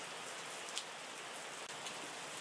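Steady rain hiss in the Wine Making Tycoon Simulator game, a dense even patter with faint scattered drops, continuous and alone without talk.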